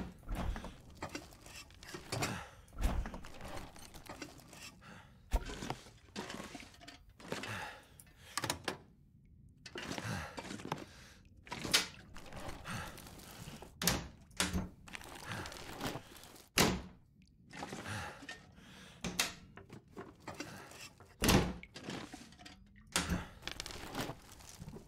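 Objects being torn down for materials in the survival game The Long Dark: repeated thunks, crinkles and tearing crunches in irregular bursts, moderately close, with no talking.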